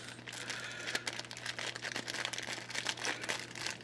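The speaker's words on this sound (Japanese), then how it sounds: "こんなビニール袋に届いてます。" A plastic shipping bag holding two Bucephalandra aquarium plants crinkles and rustles continuously at close range, with dense irregular crackles and no talk.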